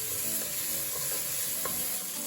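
Capsicum pieces fry in a pan with onion, stirred with a wooden spoon, producing a steady, fairly faint sizzling hiss with a few soft stirring knocks.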